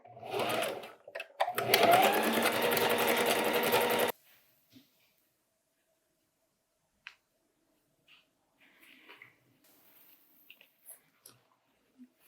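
A sewing machine on a zigzag stitch runs in one loud continuous burst for about four seconds while stitching a fabric scrunchie back and forth, then stops, leaving near silence with a few faint handling taps.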